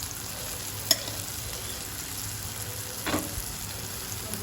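Tempering spices sizzling in a pan for a Tamil-style bottle gourd gravy, a steady low frying hiss with a couple of brief clinks or stirs, fairly close and heard alone without talk.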